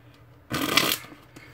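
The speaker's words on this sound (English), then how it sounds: "The shuffle's pretty good." A Viper Tally-Ho Silver Pips playing card deck riffled in one brief, crisp shuffle burst, close and fairly loud against a quiet room.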